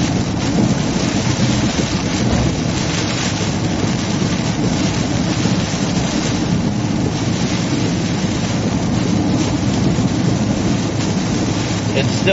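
Heavy rain pours steadily during a storm chase in Illinois, a dense continuous roar with deep thunder rumbling underneath throughout, loud and close.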